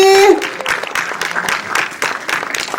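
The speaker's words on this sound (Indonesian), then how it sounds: "Tepuk tangan dong sekali lagi." An audience claps together at a film press conference for the animated film Jumbo, a dense, loud burst of applause that follows a short tone at the very start and holds steady to the end.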